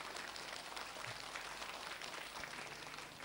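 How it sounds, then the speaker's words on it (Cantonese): Audience applause at a Cantonese opera performance: a steady, faint wash of clapping from a crowd that holds at an even level throughout, with no voices over it. "掌聲鼓勵，掌聲多謝。"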